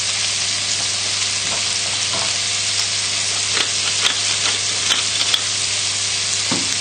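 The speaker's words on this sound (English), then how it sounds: "just give everything a little stir, just to get everything coated with the butter and the oil" Carrots, garlic and thyme fry in butter and oil in a casserole pot, a steady close sizzle broken by scattered scraping taps as a spoon stirs the vegetables through the fat.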